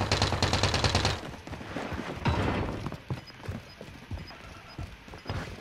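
Gunshots in a first-person shooter video game, a dense burst of rapid fire in the first second followed by scattered sharper single shots and impacts amid game noise.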